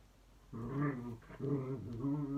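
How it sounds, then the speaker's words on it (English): A dog growls and whimpers in two sustained, harmonic-rich stretches separated by a short pause, heard close and fairly loud with no talk over it. "aren't too frightened by my dog"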